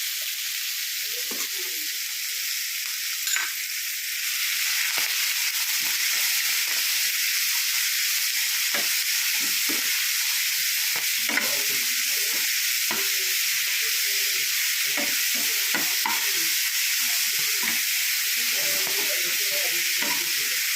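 Vegetables sauté in a pan with a green chilli for spinach sambar, giving a steady, fairly loud sizzle with small stirring scrapes and clicks throughout.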